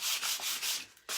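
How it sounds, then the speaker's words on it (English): Steady scratchy sandpaper strokes rasp by hand across a wood board along the grain, several back-and-forth passes close up, with a brief pause near the end before sanding resumes. "And so you'll just keep sanding"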